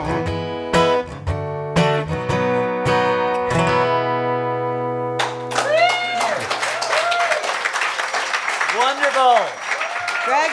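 Live audience applause breaks out after an acoustic song, following the final sustained guitar notes, with a voice speaking over the clapping.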